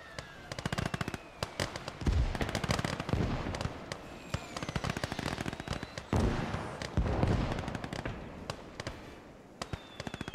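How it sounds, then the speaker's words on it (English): Mortar explosions in the video game Call to Arms Gates of Hell. Sharp, rapid blasts and cracks pop throughout a busy trench battle, some louder thumps among dense crackling bursts, with faint voices in the background. "I got mortars out."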